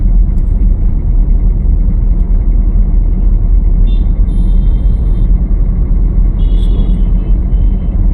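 A car driven slowly during a driving practice session, its engine and road rumble forming a steady loud drone throughout, with faint brief chirps above.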